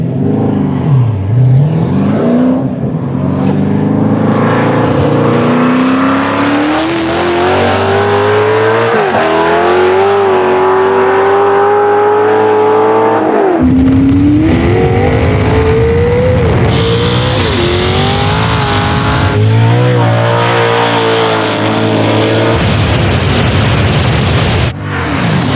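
Engines of a nitrous-fed lightweight Corvette and an 800 hp 2JZ-powered Nissan 240SX roar loud and close through a drag race, their pitch climbing steadily through gear changes, broken by a sharp cut near the middle before the engines surge again.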